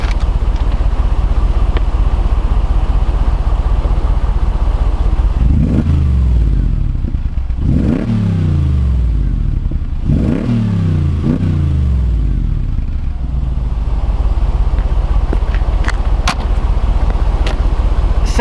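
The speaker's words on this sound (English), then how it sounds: "I'm going to rub the engine a little bit so you can hear that beautiful sound of the exhaust." A 2015 Mercedes-Benz G550 with a 5.5-liter V8 and side exhaust idles with a deep rumble, then rises through four or five sharp revs that sweep up and fall back. The sound is loud and close, with no talk.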